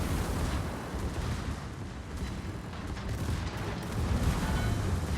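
Secondary guns of the battleship Schlieffen firing in a naval video game battle, a dense rumbling barrage of overlapping booms rolling continuously and swelling toward the end.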